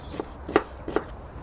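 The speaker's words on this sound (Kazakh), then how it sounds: "Енді пиязын ұсақтап тураймыз" Knife finely chopping onion on a board for Kazakh byzhy sausage filling, three distinct cutting knocks spaced about a third of a second apart, close and fairly soft, with no talk.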